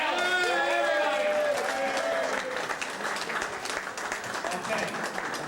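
Audience applauding at an interfaith multicultural Passover seder, a dense patter of clapping with a voice speaking over the start.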